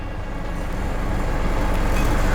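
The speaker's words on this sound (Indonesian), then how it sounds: "waktu kita starter, hentakan dari starter dan suara mesinnya itu mirip banget kayak mesin bensin" A 2014 Ford Everest XLT SUV diesel engine starts and rumbles with a steady low chugging, growing slightly louder over a couple of seconds.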